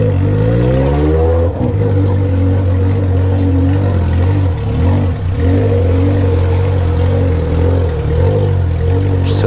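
Honda Hornet motorcycle fitted with an Atalla 3-inch 4x1 straight exhaust, a loud, steady, throaty engine drone close to the microphone, with rev changes shifting its pitch throughout.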